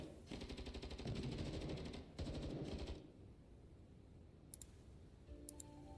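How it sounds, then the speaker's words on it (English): Gunfire in the video game Girls' Frontline 2: rapid automatic bursts dominate the first three seconds, loud and close. Quieter ambience and a few faint clicks follow, with no talking. "Sounds like gunfire, thousands footsteps."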